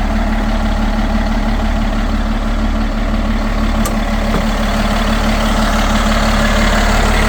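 A 2012 Kawasaki ZV wheel loader's diesel engine idling loud and close, a steady low rumble with an even hum, unbroken for several seconds with no talk.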